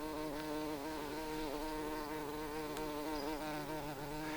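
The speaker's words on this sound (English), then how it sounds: "There's that bee again." A bee drones steadily and continuously at close range outdoors at a hillside dump site, its buzz wavering slightly in pitch with no one speaking.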